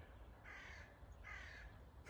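A crow caws three times, harsh, evenly spaced calls heard at a distance and fairly faint.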